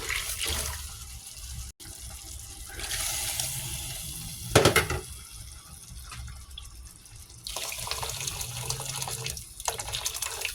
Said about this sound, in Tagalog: Ayan na, ilagyan natin ito ng tubig.